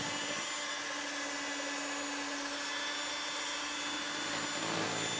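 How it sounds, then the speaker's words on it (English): Electric mixer whipping a homemade clove hair butter, a steady close motor whir with a faint hum running unbroken throughout, with no talking. "I'm scraping the sides one more time before I go in for one final mixing."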